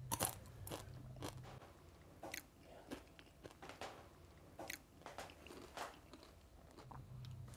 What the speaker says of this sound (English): And here are crispy scrambled eggs.